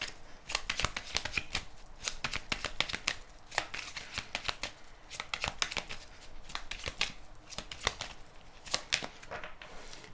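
A deck of tarot cards is shuffled close up, a quick run of crisp riffling slaps and flutters that keeps going throughout with short pauses.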